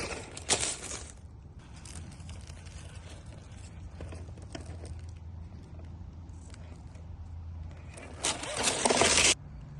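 A JJRC 1/18 Jeep Cherokee C8809 RC crawler whirs along at low speed with a steady motor hum, broken by sharp scraping bursts near the start and louder grinding toward the end.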